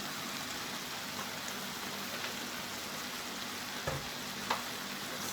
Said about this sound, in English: So when you start to hear that little crackling sound